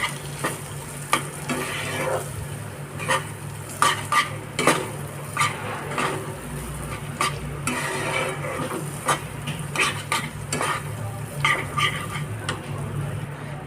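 Frozen peas being stirred into fried masala in a hot pan, a steady sizzle under repeated scraping and clinking strokes of a spoon against the pan, with no talking.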